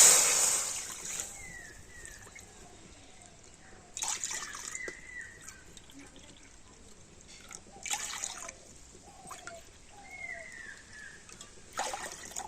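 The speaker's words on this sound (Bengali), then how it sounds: "আর সেই একই বাটি মেপে আমি 4 বাটি জল এখন কড়াতে দিয়ে দেব" Water poured from a measuring bowl into a wok (kadai) on the stove, four bowlfuls in separate pours: soft liquid trickles and splashes with pauses between, fairly quiet and close.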